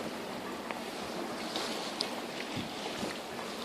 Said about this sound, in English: It is, however, blowing something of a gale at the minute